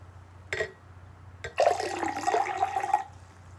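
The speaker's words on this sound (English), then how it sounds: "I'm going to pour it slowly into my cup." Water is poured slowly into a cup, giving a close, trickling and gurgling splash that runs about a second and a half after two brief earlier noises.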